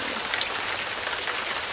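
Hard rain pours down in a dense, even hiss that sounds close and loud, with no talking.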